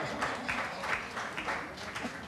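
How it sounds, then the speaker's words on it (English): Studio audience at a daytime talk show applauding, a steady moderate wash of clapping lasting a couple of seconds with a faint voice underneath. "Got applause on that, too."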